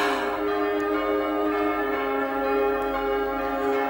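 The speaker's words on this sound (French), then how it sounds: "Les cloches de Saint-Pierre." Saint-Pierre church bells peal at Easter with rich, lingering metallic tones that overlap into a steady ringing, heard alone without voices at a moderate distance.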